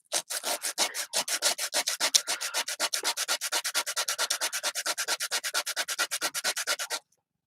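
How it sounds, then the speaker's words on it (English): Small piece of sandpaper rubbed over cork to flatten it: about forty rapid, rhythmic back-and-forth scratching strokes, close and steady, stopping abruptly. "Now I take my little sandpaper I have and I just kind of"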